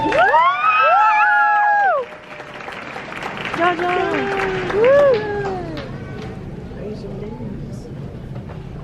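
A crowd at a graduation ceremony for the class of 2023 cheers and shouts with loud sustained whoops at the start, then settles into a lower roar of mixed voices and scattered clapping that fades gradually.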